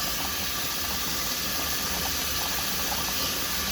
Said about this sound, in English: emulsifier blender thing, mixing it real good